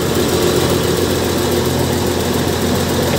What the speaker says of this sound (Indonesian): Jadi ini dia mesinnya nggak dimatiin